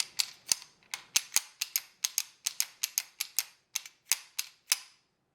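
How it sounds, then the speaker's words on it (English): Beretta M9A1 pistol slide racked back and forth repeatedly, a run of about seventeen crisp, close metallic clicks in a quick, slightly uneven rhythm, heard alone without speech. "this thing is just like glass moving back and forth. It's very smooth, and you can even tell it in the sound there."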